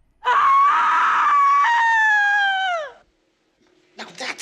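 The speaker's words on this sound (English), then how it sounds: "Now that's a scream!" A woman's scream from the film Blow Out rings out loud and sustained for several seconds, a high, strained cry that wavers and falls off at the end, followed by silence and then brief faint sounds.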